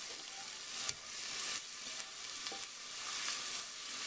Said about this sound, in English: Now that it's getting hot, I'm going to add this onions and garlic right to it.